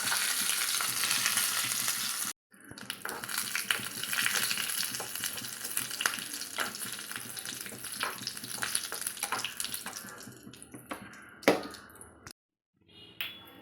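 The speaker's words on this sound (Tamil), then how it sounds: "கடுகு உளுந்து நல்லா பொரிஞ்சிருச்சு. இப்போ காஞ்ச மிளகாவும் கருவேப்பிலையும் இதில் சேர்த்துக்கலாம்." Dried chillies and curry leaves crackle and sizzle hard in a mustard seed and urad dal tempering, a dense close-up spatter with a brief silent gap early on and a sharp pop near the end before it cuts out.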